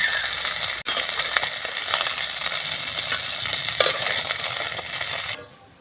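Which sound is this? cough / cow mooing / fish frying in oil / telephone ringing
fish frying in oil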